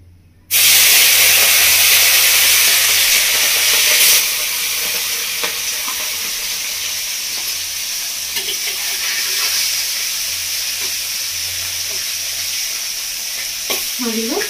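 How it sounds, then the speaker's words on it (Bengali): Singi fish dropped into hot oil seasoned with turmeric and salt for Bengali village-style cooking bursts into a loud, steady sizzle that eases slightly but keeps hissing, with faint kitchen clinks near the end. "মাছটা ভাজা হচ্ছে"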